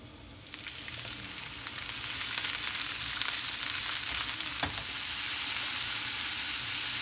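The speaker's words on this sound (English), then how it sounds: "Add the tinned tomatoes. Add the teaspoon of sugar and allow to simmer for 10 minutes." Tinned tomatoes with a teaspoon of sugar in a hot pan, a dense steady hiss that grows louder after a moment and then holds, with one faint knock partway through.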